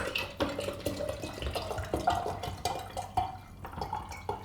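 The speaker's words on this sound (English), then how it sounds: "Let's add the mineral water." Mineral water is poured into a glass jar up close, splashing and gurgling in uneven glugs with bright drips, and no talk.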